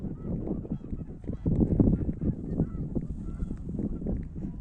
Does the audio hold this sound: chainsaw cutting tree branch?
no